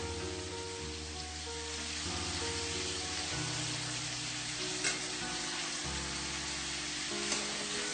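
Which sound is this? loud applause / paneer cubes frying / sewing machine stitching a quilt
paneer cubes frying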